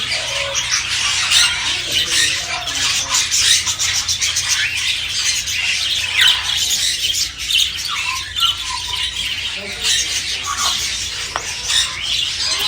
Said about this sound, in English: I guess these are from Senegal. These are Senegal parrots.